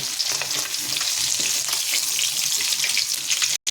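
Fish fries in hot oil in a pan, giving a loud, dense, continuous sizzle with crackling spatter that holds steady close up before cutting off abruptly.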